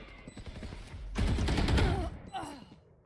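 Rapid automatic gunfire from a shooter video game, a dense burst of shots in the middle of the clip over faint background game sounds, with a brief voice afterward.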